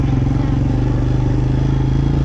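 A small ATV engine idles and putters close by with a rapid, steady chugging rhythm, loud and continuous throughout.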